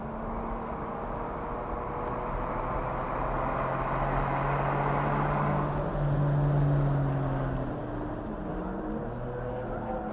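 A 2000 Ferrari 550 Maranello races in a Ferrari Challenge session on track, its engine droning loud and close, easing off and then swelling as it accelerates out of a corner.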